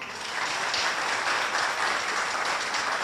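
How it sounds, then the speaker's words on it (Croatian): A concert crowd at a cultural-arts society performance in Čepin, Croatia, claps in a dense, even wash of applause that holds steady for a few seconds with no talk over it. "zato molim jedan aplauz za njih"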